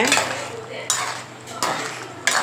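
Chana masala gravy being stirred in a pot, with a spoon scraping and knocking against the metal in three or four loud, close strokes.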